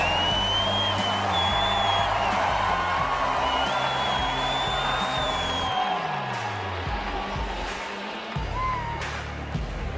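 A Vegas Golden Knights home crowd at the NHL All-Star Skills event roars and whoops continuously, a loud arena wash of cheering with music and whistling tones threaded through it.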